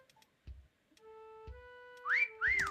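A human whistle sounds twice near the end, each a bright sliding tone rising then falling, following quieter low thumps and a steady held tone, during a TikTok live chameleon game stream.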